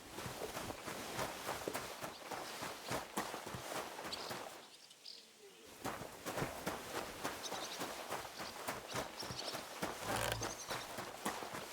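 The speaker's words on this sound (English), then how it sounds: "A horse! A horse!" Horse hooves clip-clop steadily on hard ground in the medieval video game Kingdom Come: Deliverance II, a dense run of close, crisp hoof strikes that pause briefly midway and then resume.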